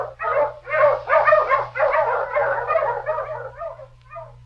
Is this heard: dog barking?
yes